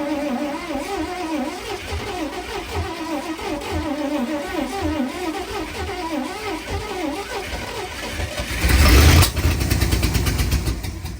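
An old car engine fires up at about nine seconds, a loud burst that settles into a rough, loud running; beforehand there is only a steady background drone.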